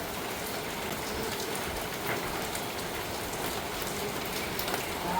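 Steady rain falls continuously, an even close patter with scattered drops, and no voices.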